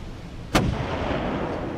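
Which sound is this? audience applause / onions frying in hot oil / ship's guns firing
ship's guns firing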